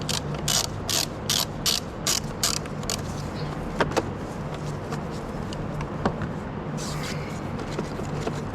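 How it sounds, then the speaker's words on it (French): Ratchet wrench with a 13 mm socket loosening the battery bracket screw on a Renault Twingo, a run of quick close clicking ratchet strokes followed by quieter mechanical handling and light knocks. "on va dévisser la vis qui tient le support de batterie"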